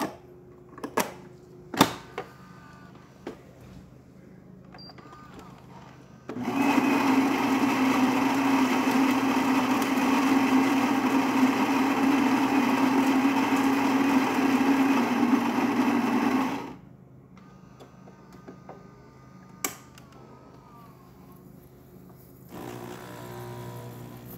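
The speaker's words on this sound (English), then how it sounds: "Nice steady stream coming out of the machine, working great." A Gaggia Babila coffee machine fitted with a new water pump runs with a loud, steady buzzing hum for about ten seconds, starting and stopping abruptly, with a few faint clicks before and after.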